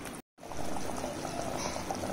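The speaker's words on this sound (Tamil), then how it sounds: "இப்போ நல்லா கொதிக்க ஆரம்பிச்சிருச்சு" Country chicken curry bubbling at a boil in a cooking pot, a steady close simmering burble with a brief dropout near the start and no talk.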